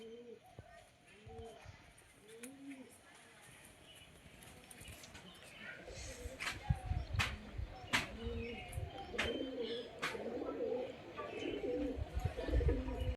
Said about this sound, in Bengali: আজ আমরা 5টা পায়রাকে ছেড়েছি,